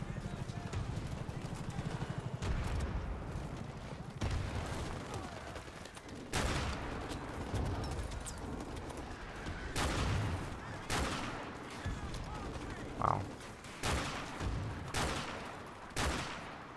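Gunfire from the Modern Warfare Remastered campaign mission War Pig, a series of sharp, loud shots and bursts spaced irregularly, mixed with game noise and talk.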